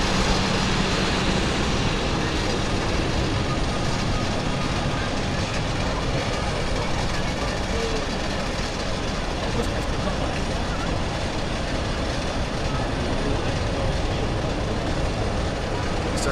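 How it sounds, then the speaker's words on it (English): An Airbus A380 takes off at Zurich Airport, its engines making a steady, loud broadband roar that holds constant throughout with no pauses, like distant jet thunder filling the whole scene. "A380 taking off now."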